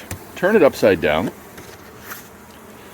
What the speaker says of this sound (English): So we have our package of bees here.